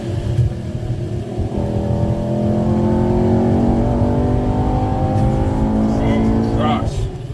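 A Mercedes-AMG E63S Stage 2 Plus accelerating hard in race mode, heard from inside the car: a loud, steady engine roar that rises in pitch through the run, with a brief lift near the end.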